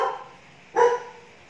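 A single dog bark rings out once, moderately close, following a fainter, softer yelp at the very start, with quiet around them.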